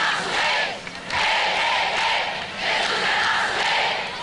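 A large crowd at a Catholic charismatic renewal mega-mass roars and claps together in swelling waves, loud and dense, with no clear individual voices standing out.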